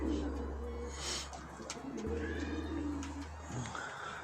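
Pet birds, likely pigeons or doves, cooing in soft, repeated low calls, close by, with chirps and other bird sounds mixed in and some background noise.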